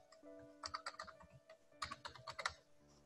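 Fingers tap on a computer keyboard while an email address is entered into an online admission form, giving two quick bursts of soft, close keystrokes separated by a short pause, quiet and without speech.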